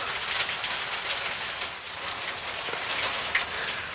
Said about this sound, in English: they able to hear the rain through the mics?